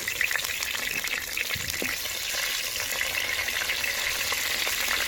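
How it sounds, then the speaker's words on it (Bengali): Continuous crackling sizzle of eggplant slices frying in hot oil, close up and steady throughout, with no talking. "প্রথমেই বেগুন ভাজাটা ভেজে নিয়ে তারপরে বাঁধাকপিটা বসাবো"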